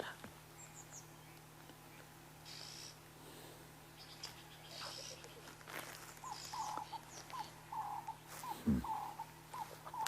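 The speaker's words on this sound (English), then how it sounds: "Can you hear the squirrel going cha cha cha cha cha cha cha cha?" Squirrel giving a chattering alarm call on an African safari, a rapid repeating series of short chirps in the background over steady hum and faint outdoor noise, growing in the second half.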